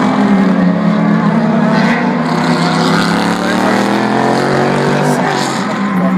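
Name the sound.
race cars driving past at Le Mans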